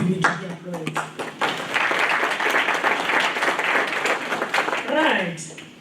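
An audience at a readathon event breaks into steady, full applause lasting several seconds, with voices talking over the clapping at the start and end.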